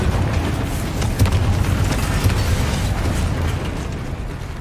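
Confringo fire spells burst in Hogwarts Legacy: dense, rumbling explosions with a few sharper blasts rising out of a continuous loud roar, close and without talking.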